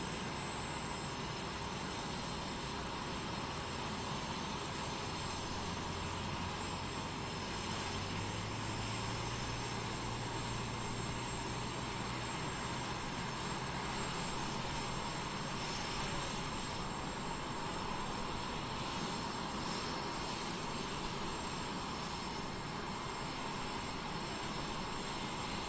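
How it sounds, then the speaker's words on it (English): A de Havilland Vampire twin-boom jet flies at an airshow at Hill AFB, its broad, steady engine roar filling the air continuously at a moderate distance with no talking. "Twin boom, de Havilland Vampire."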